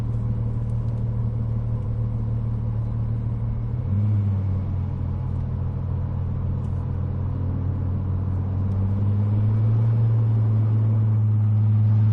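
A car cruises through Night City in Cyberpunk 2077, its steady low engine rumble droning continuously, with a slight pitch rise partway through as it accelerates; no talking over it.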